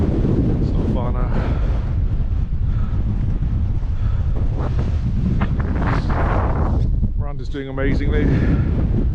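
Strong wind buffets the microphone at the summit of Cribyn in the Brecon Beacons, a loud continuous roar with a person talking over it.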